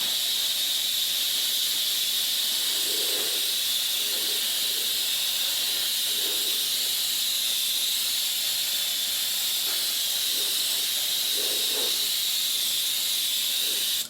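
A steady hiss of spray paint coating a 3D printed Sky Fighter model, a constant even stream held close and loud throughout with faint soft bumps beneath.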